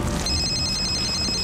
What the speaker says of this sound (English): That ring is so annoying.